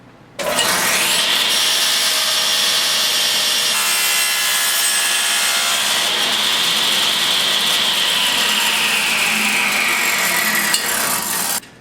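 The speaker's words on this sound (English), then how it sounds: "run them one end, just one end of it, across that blade to make a 45-degree bevel on one end" A table saw blade cuts a 45-degree miter across the end of a wooden board for a small lidded box, giving a loud, continuous whining buzz that spins up, holds steady for about eleven seconds, then cuts off.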